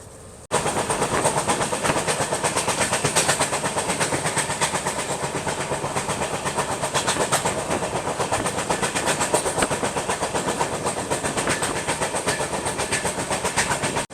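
A Delhi–Patna special passenger train runs non-stop at speed, heard from on board as a loud, steady rumble with continuous rhythmic wheel clatter and no talk over it.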